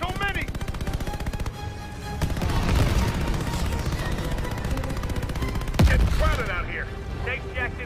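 Rapid gunfire from Call of Duty Vanguard rattles in fast bursts with a loud impact, while voices speak over the shooting.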